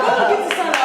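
Brief burst of audience clapping on a Haitian reality show, a short close patter of hands mixed with voices.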